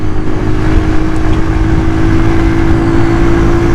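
A Honda CD 70 motorcycle, 2020 model, pulls away through busy traffic, its small engine droning loud and steady with continuous buzzing and road rumble close by.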